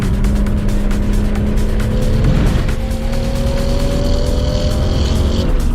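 A Toyota Supra race car in an endurance race at Sydney Motorsport Park drones loudly and steadily as it accelerates on track, its engine note climbing in pitch halfway through with a continuous close, in-car roar.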